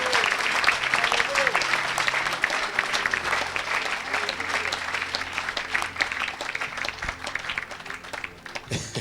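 Congregation clapping steadily through a church worship service, the dense applause sustained and loud throughout, with sung or chanted voices blending underneath.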